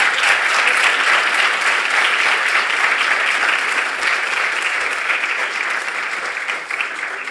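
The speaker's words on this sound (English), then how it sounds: "please give him a good round of applause" Steady applause from a conference audience welcoming a speaker, dense and continuous clapping that holds for several seconds and tapers slightly at the end.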